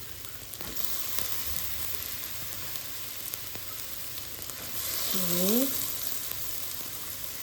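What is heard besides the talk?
cabbage sizzling as it is stir-fried with mie goreng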